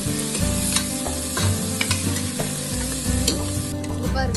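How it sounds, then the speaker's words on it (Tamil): Onions sautéing in a pan for chicken biryani, a steady loud sizzle with scraping stirs throughout and no talking. "பாருங்க, நல்லா வெங்காயம் வதங்கி வந்திருக்கு"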